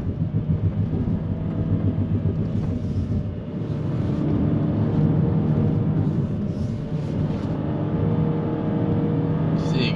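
A Honda HR-V V Spec Turbo powers uphill through a bend on a mountain road, its engine a steady loud rumbling drone heard from inside the cabin, with a faint voice now and then.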